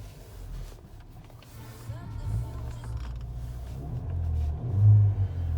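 A 2016 Ford Fiesta ST-3 1.6 litre turbocharged engine rumbles low and then revs up, growing louder toward the end, heard from close by.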